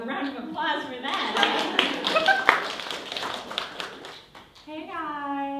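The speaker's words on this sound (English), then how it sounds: "So let's give her a round of applause for that." At a stand-up comedy show, a small audience gives scattered, uneven hand claps that sound sparse rather than like a full ovation. People talk before and after the clapping.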